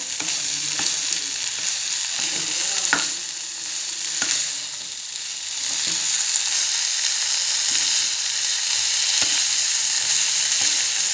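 Broccoli fries in hot oil with a loud, continuous close-up sizzle, punctuated by sharp clicks and scrapes of a spoon stirring the pan every second or so.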